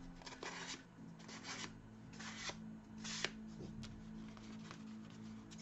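Hand sanding with 400-grit sandpaper on a cosplay prop: a series of faint, close, rhythmic rasping strokes, each a brief scratchy burst, repeating over a low background hum.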